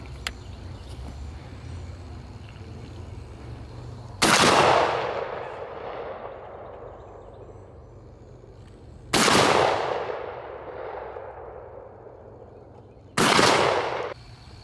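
Three loud shotgun blasts from a semi-automatic Browning or Beretta with a modified choke, fired outdoors at targets set at 30, 40 and 50 yards with copper-coated bismuth shot. The blasts come several seconds apart, each followed by a long rolling echo.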